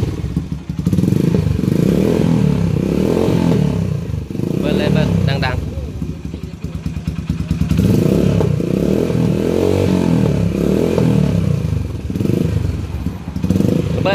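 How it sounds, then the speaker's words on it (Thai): A Honda Centaur Siam'70 motorcycle fitted with a DDT BIKE exhaust is started and revved. Its loud, steady engine note runs throughout, with some rattling clatter and voices talking underneath. "ติดเครื่องครั้งแรก"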